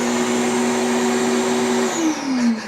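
A built-in central vacuum cleaner in an apartment entryway runs with a loud, steady motor whine and airflow roar. Near the end the pitch drops as it winds down.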